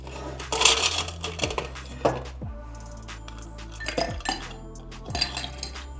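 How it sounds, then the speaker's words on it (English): Ice cubes clink and clatter into a cocktail glass for a Testarossa cocktail, several sharp close chinks in small bursts, with ringing tones between drops. "Now we need ice."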